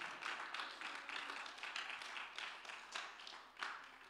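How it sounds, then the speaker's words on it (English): A church audience claps hands together in a fairly steady, pulsing rhythm, the bursts of many palms blending into a soft, continuous patter heard at moderate distance throughout. "about that and just clap your hands."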